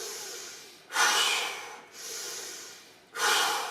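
Strong, breathy exhales during a vinyasa yoga flow, heard as three long, close, airy breaths in a steady rhythm with short pauses between them and no talking.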